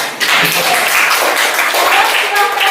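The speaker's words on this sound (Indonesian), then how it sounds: "Tepuk tangan untuk kita semua" Classroom applause from a group of eighth-grade students after group presentations, a dense, steady patter of many hands clapping close by for a few seconds.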